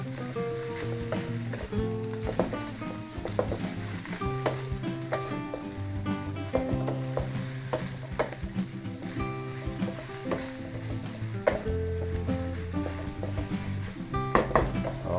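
Garlic fried rice (sinangag) is stir-fried in a pan, giving a continuous close sizzle broken by steady scraping and clinking as the rice is tossed, with no voices.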